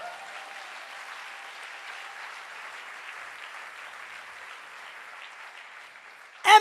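A church congregation applauds and cheers to acclaim the Lord during an evening sermon on marriage, steady sustained clapping and crowd noise at even loudness, ending with a sharp louder burst.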